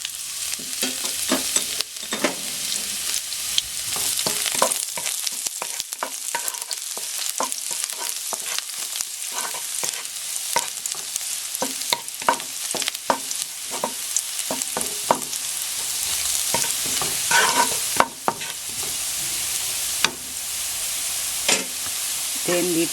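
Garlic frying in hot olive oil for squid ink pasta crackles in a continuous bright sizzle, broken by frequent scraping and clacking of a utensil stirring in the pan.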